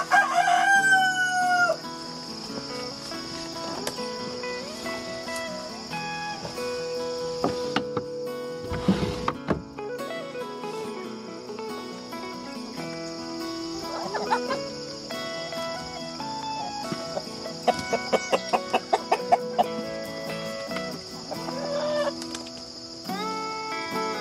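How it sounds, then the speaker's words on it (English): Laying hens cluck and crow among steady insect chirping, with a rooster call near the start and scattered clucks throughout at moderate distance. "Next stop is our laying chickens."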